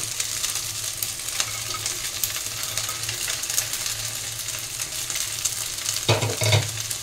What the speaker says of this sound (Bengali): সবগুলো একসাথে সুন্দর করে নাড়াচাড়া দিয়ে নেব। আবারও 1 মিনিট কষে নেব।